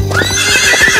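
A horse neighs loudly and close by in a city street, a rising whinny over a steady background, with hoof-like thuds pulsing underneath through the second.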